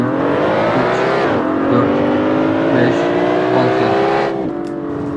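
BMW 520i with tuned software revving and held near 4000 rpm in Assetto Corsa, a loud steady engine drone with harmonic whine, dipping briefly mid-run then climbing and dropping off near the end.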